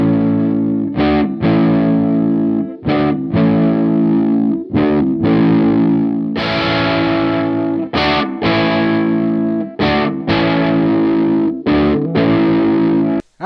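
Worn Epiphone Casino electric guitar played through distortion, loud strummed chords in repeated bursts with brief gaps, the tone shifting darker and brighter as the tone knob is turned.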